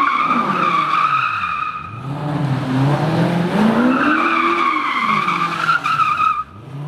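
A Maserati sports car slides into a drift, its tires squealing loud and close in long, wavering howls over a revving engine, the squeal rising and falling through the slide.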